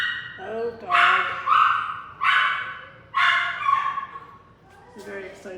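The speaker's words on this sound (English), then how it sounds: "It's a very excitable dog." An excitable dog barks in a series of loud, close yips and barks at an uneven rhythm, with a few brief whimpering tones between bursts.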